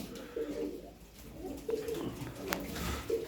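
Tumbler pigeons coo softly in a few short, low phrases, close by, with someone talking quietly among them.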